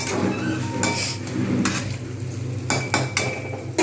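Spice paste being stirred into a spicy bori curry in a pan makes metal spatula clinks and scraping knocks against the pan, close and fairly loud, with a few sharper taps.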